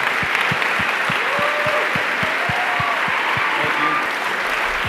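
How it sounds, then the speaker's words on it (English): Sustained, dense applause fills a charity gala hall for an onstage guest, an even wash of clapping at a steady level with no pause throughout. "Let's have a round of applause for Jeff Bezos."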